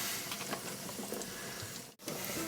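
Crumbed chicken thigh fillets sizzle steadily in a hot pan, a continuous close crackle with a brief drop-out near the end.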